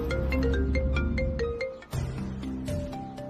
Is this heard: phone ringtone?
yes